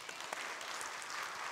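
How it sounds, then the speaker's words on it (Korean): A church congregation at a Sunday worship service claps together, a faint, even patter of many hands in a large room, brief and without speech. "아까처럼 박수 한번 칠까요?"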